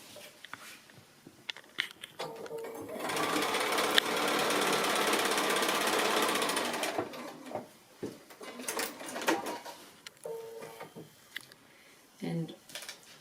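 A sewing machine stitches fabric along a foundation piecing line in a steady, continuous mechanical whir lasting a few seconds, with light handling noises around it.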